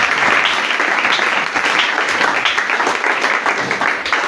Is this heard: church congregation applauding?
yes